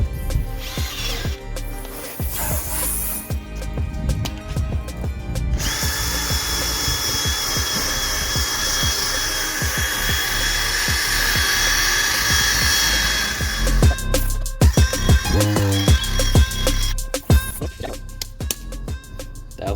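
Power buffing tool working faded plastic headlight lenses on a JDM Toyota Crown GRS184, a steady high-pitched whirring drone with pitch shifts and brief stops, fairly close and loud, with no talking.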